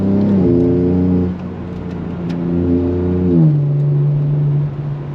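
A BMW M3 G80 xDrive engine revs and surges while the car ploughs through deep snow, rising and dropping in pitch with a steady, close, loud drone throughout and no talking.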